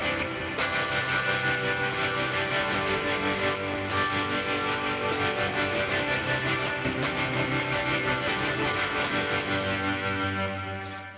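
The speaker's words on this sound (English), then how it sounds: "This is called the citrus reverb." Electric guitar played through a citrus reverb effect, sustained chords ringing with a long washy tail and soft picked attacks over several seconds, fading at the end.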